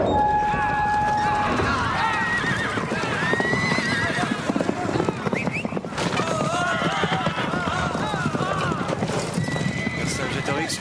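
Several horses thunder past in a dense, close clatter of galloping hooves, with repeated loud neighs and whinnies rising over the din, and shouting voices mixed in throughout.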